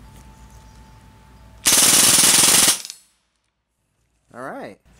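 A Hatsan Blitz .22 full-auto air rifle empties a magazine in one loud, close burst of rapid shots lasting about a second, then a short metallic clink after a pause, with no talking.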